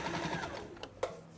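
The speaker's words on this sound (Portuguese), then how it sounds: "a Eunice foi então costurando esse cadarço como se fosse um viés" A sewing machine stitches binding tape onto the edge of a double-sided patchwork rug, a quiet, rapid mechanical whir with a couple of soft clicks near the end.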